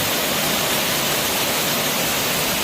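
Seonyu waterfall on Jirisan mountain pours in a loud, steady, close rush of falling water, unbroken and alone.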